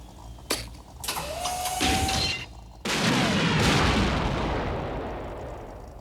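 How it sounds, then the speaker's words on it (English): A cartoon laser cannon fires a sharp blast, followed by a rising whine and a second heavy booming shot that rumbles and fades slowly. "All right, laser cannon."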